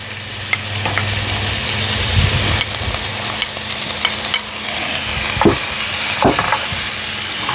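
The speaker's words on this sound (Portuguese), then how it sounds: "E fritou a cebola." Chopped onion fries in olive oil in a pan, a steady loud sizzle with scattered pops and clicks of a utensil stirring, close by and without talk.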